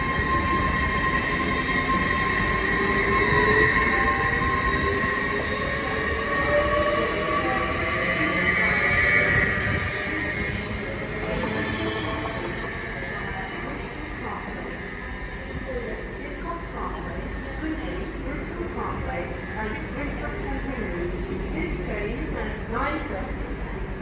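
A Great Western Railway train pulls out of Reading station, a steady loud rumble of wheels and carriages under a platform announcement voice, with faint squeals and rail clatter continuing throughout.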